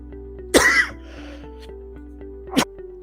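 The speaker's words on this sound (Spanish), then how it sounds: "me baja la tos" Two short, sharp bursts, a throat-clearing cough, come from a man during a Spanish-language lecture on software testing, spaced about two seconds apart, over a faint steady room hum with no talk.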